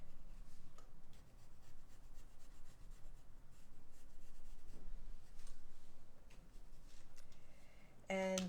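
Faint, steady scratching of a drawing tool sketching on paper, soft continuous strokes, close and quiet, with no talking.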